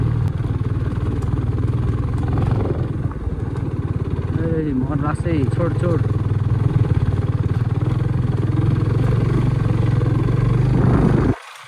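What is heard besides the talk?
motorcycle riding on a road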